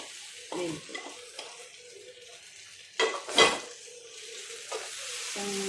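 Fried chicken stirred into tomato sauce in a pan, with sizzling and a run of spatula scrapes and clinks against the pan, including a louder scraping burst midway.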